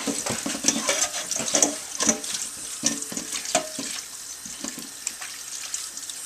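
Whole red wheat dough being rinsed under a running kitchen tap to wash out the bran and leave gluten: a steady stream of water with irregular splashes and squelching, no talk.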